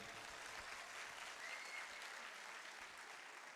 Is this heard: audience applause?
yes